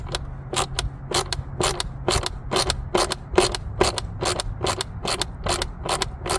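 A ratchet wrench on an extension clicks steadily while loosening a screw on the air filter housing of a Mercedes-Benz S560, close and crisp, with rapid even repeated strokes throughout.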